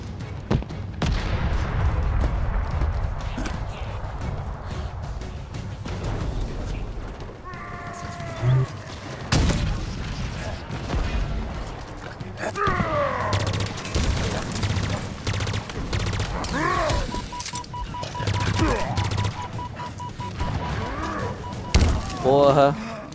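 Gunfire in the Halo Infinite campaign on Xbox Series X, with bursts of sharp shots and heavy thuds scattered across a busy battle mix, under game voices and steady combat noise.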